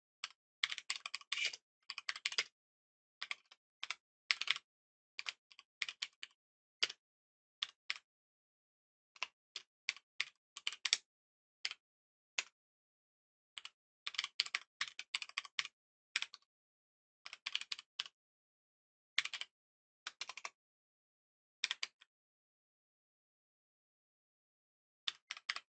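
Quick bursts of keystrokes on a computer keyboard, close and fairly quiet, come in irregular clusters of clicking separated by short pauses, with no talking over them.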